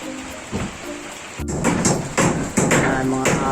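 Rain falling on a house construction site, a steady broadband patter throughout with several dull thuds and knocks breaking through near and loud.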